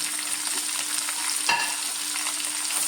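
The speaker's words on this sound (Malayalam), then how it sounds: "ടേബിൾ സ്പൂണ് ഇഞ്ചി വെളുത്തുള്ളി ചതച്ചത് നല്ലവണ്ണം ഒന്ന് നമുക്കൊന്ന് വഴറ്റിയെടുക്കാം" Crushed ginger and garlic sauté in oil for a Kerala fish molee, giving a steady close crackling sizzle with a single sharp stir or tap midway and a faint constant hum beneath.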